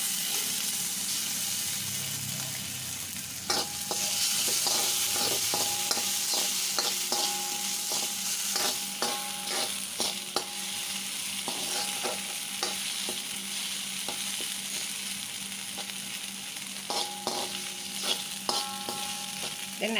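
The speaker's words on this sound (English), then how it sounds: "Now I add in the chili paste" Chili paste frying in a pan for chili con carne, a loud continuous sizzle broken by frequent scraping and clinking stirring strokes, with no voices.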